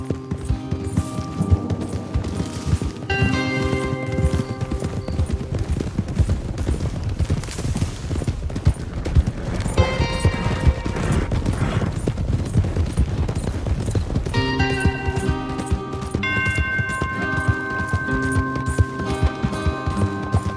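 Rhythmic hoofbeats of several horses galloping in the video game Red Dead Redemption II, loud and continuous, mixed with layered music and scattered game-like effects.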